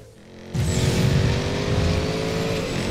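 A car engine in the racing game Need for Speed Payback surges from idle into a loud, sustained rev with a steady droning tone, holding near and strong for over two seconds.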